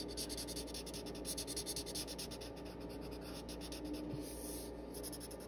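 Markers color on paper in steady, close back-and-forth scratchy strokes, quiet and continuous, with no talking.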